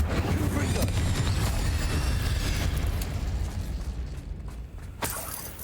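Incendio fire spell cast in Hogwarts Legacy, a loud burst of roaring, crackling flame that fades and then ends with a sharp pop.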